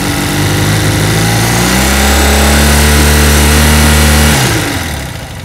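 A BMW airhead motorcycle engine revs up to about 3,000 RPM and holds there, a loud close steady drone with a clear rising pitch, then drops away as the throttle is released near the end.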